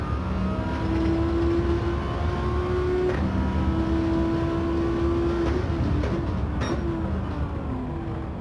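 Race car engine in a touring car racing video game, held at a steady, lightly varied drone as the throttle is feathered through a corner, with sustained engine tones shifting slightly in pitch, loud and continuous without talk.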